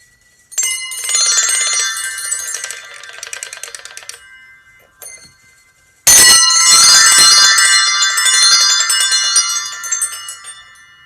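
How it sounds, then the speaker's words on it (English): A spinning bell, a hand instrument shown at a storytelling workshop, rings out in two bright shimmering bursts with long sustained metallic overtones, separated by a brief near-silent gap, fairly loud and with no talking. "It's called a spinning bell."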